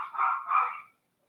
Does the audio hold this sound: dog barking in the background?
yes